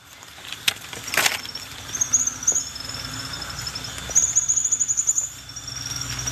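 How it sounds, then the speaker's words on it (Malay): Birds calling outdoors in Thailand, rapid high chirping trills repeated in short bursts at moderate distance over a steady background hum, with one sharp knock early on. "Ada bunyi burung."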